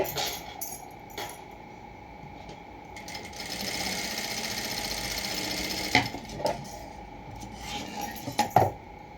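Sewing machine stitching a plain blouse, a steady mechanical whir running through most of the stretch, joined near the end by a few sharp clicks and taps of handling.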